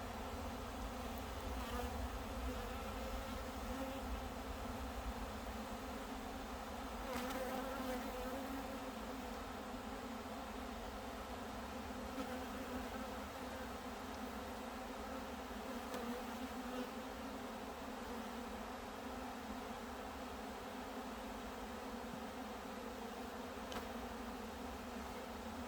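Honeybees fan at a hive entrance after finding their queen, producing a dense continuous buzzing hum of many wings, steady and close-up, with no talking over it.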